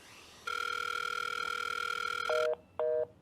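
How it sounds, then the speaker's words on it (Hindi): An outgoing phone call: a steady, loud ringback tone drones for about two seconds, then two short higher beeps follow with brief gaps, no voices heard. "कॉल करता हूँ कि शायद ज़रूरत पड़ेगा, वो फिर भी कॉल करता हूँ इसको"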